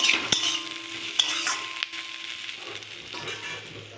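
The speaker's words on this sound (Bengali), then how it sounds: "1/2 টেবিল চামচ হলুদ, পরিমাণ মতো লবণ দিয়ে একটু নেড়ে চেড়ে নেব, ভেজে নেব।" Frying with turmeric and salt, stirred in a pan: a spatula scrapes and taps a few times over a soft sizzle that fades toward the end, close and without speech.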